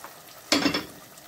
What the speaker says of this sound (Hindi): अब तेल गरम होने के बाद हम ये मसाला डाल के इसको भूनेंगे।